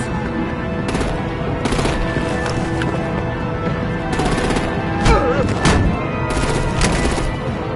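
Artillery gunfire in Batman: The Enemy Within, heavy repeated blasts and bursts at intervals over a dense, continuous battle din, loud and sustained throughout.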